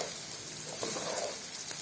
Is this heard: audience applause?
no